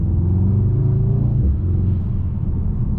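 Mercedes-AMG E63 S sedan, 2021 facelift, its V8 engine accelerating: a loud, deep, steady rumble with rising pitch, heard close from inside the car with no talk.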